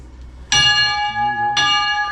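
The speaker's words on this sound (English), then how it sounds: "All right, I'm going to ring that bell." A bell on a restored HK Porter steam locomotive is struck twice, each loud, ringing clang decaying with a bright metallic tone, the second strike about a second after the first.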